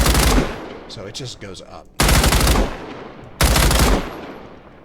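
Three loud bursts of PK machine gun fire in the shooter game Badlanders, each a dense rattling volley about a second long, with someone talking briefly between the first and second bursts.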